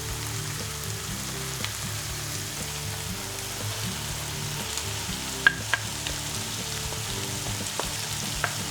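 Eggplant and caponata vegetables cooking together in a pan, with a steady low sizzle and occasional stirring clicks and scrapes, no voices.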